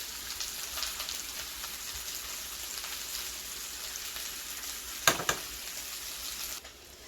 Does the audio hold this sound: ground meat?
yes